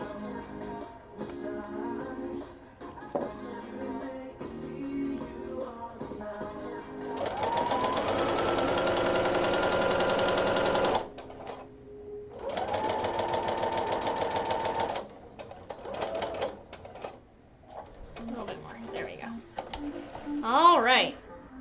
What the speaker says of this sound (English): Basting stitching is done